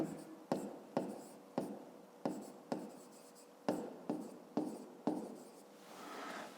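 A pen scratches across paper while a math exercise table is filled in, about ten distinct, evenly spaced writing strokes, each a quick scratchy burst, close and fairly quiet.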